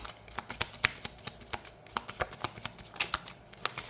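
Cards are shuffled close by in a quick run of crisp riffling clicks and flicks, fairly soft, with no voices.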